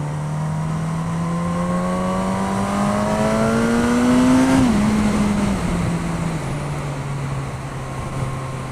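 A Suzuki GSX-S1000 motorcycle on a test ride, its engine droning steadily and climbing in pitch as it accelerates, then easing off and settling lower, with constant wind noise and no talking.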